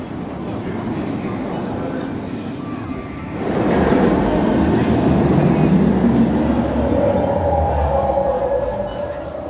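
Velocicoaster roller coaster at Universal Florida launching an empty train, a steady rumble that swells suddenly into a louder rushing roar that gradually fades, with faint voices nearby.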